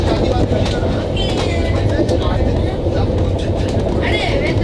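Rajdhani express train passing Thane station at speed, a loud continuous rumble with rhythmic clickety-clack of wheels over rail joints and rushing air, close and sustained throughout.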